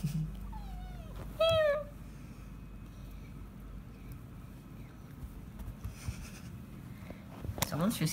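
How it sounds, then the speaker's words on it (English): A domestic cat meows indoors, two short rising-falling meows close by, with the second clearer and louder. Faint rustling and handling noises follow, and a possible brief cry comes near the end. "She's got a cute meow."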